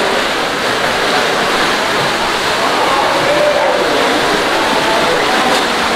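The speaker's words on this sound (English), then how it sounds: "this little geyser, it actually bubbles up and that runs all the way out and feeds the pool" Water from a small bubbling geyser on resort grounds runs steadily downhill toward a pool, a constant close rushing wash that holds at an even level throughout.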